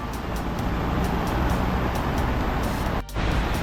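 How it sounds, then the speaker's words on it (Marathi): A Shivshahi bus bound for Satara rolls into a busy bus stand, its steady engine rumble and road noise continuous and fairly loud amid general traffic, with a brief dip near the end. "शिवशाही बस सातारा."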